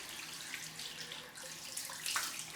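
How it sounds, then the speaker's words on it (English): Water runs from a tap for a cold rinse after a head shave, a steady, soft splashing hiss at close range with small shifts as the flow hits the basin or skin. "So let's just get to the cold rinse"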